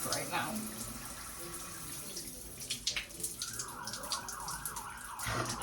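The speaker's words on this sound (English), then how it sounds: "As the sirens alarm." A siren wails faintly in the distance outside a home bathroom, its rising and falling tone emerging over soft running water and household noise.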